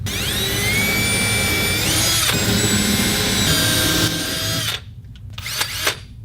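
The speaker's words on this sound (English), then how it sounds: "We've got our drill bit in." A power drill with a 4.5 mm bit whines steadily at high pitch, shifting tone as it bores 55 mm into a wall, then stops and gives a few short bursts.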